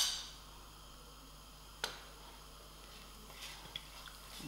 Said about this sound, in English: till I hear a busting sound of the mustard seed